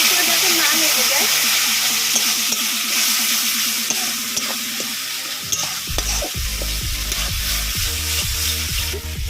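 Rohu fish curry with potato and pointed gourd sizzles steadily in a pan after a splash of water, a broad hiss with bursts of crackling and occasional scraping stirs, close and loud throughout.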